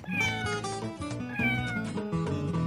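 A kitten meows repeatedly, high drawn-out cries close and clear, several in a row against a light musical backing.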